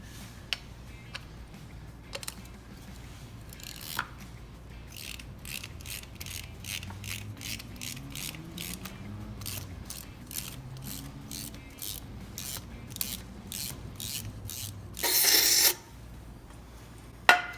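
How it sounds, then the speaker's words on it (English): A thread chaser cleans the spark plug threads on an Orion RXB 150 pit bike, making a rapid, regular ratcheting click run close by, with a few scattered clicks and a brief hiss near the end, and no voices. "So I'm just gonna go ahead and chase the threads"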